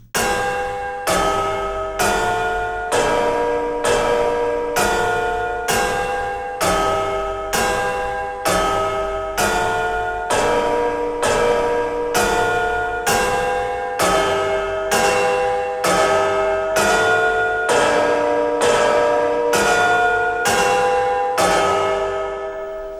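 Synthesized church bells from the Soundpaint Clanggg instrument tolling in a steady, even rhythm, about twenty bright metallic strikes with ringing overtones and reverb, loud and alone.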